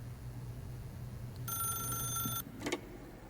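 A telephone rings in the video game The Stanley Parable: one burst of electronic bell ringing lasting about a second, then a short second chirp, clear over a low steady hum. No one speaks.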